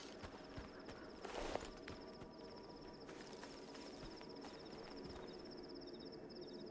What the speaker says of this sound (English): But I heard footsteps.